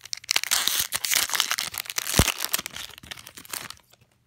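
A Magic: The Gathering Eldritch Moon prerelease booster pack wrapper torn open up close, a loud continuous run of foil crinkling and crackling with one sharp snap midway, ending abruptly.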